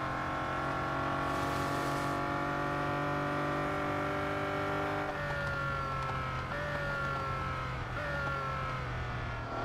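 Bugatti Centodieci hypercar engine racing in Real Racing 3, a steady high-pitched engine whine held loud and continuous, shifting pitch as it changes gear, with no talking.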